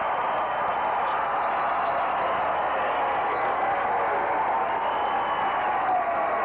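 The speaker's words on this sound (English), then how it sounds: "listen to this crowd give the standing ovation to the Trojans" A 1982 regional championship high school boys basketball crowd gives the Bandys Trojans a standing ovation, a dense, steady roar of applause and cheering that fills the gym throughout.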